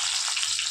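Onion drops into hot oil for a vegetable curry, giving a brief, steady, bright sizzle heard up close without any talking.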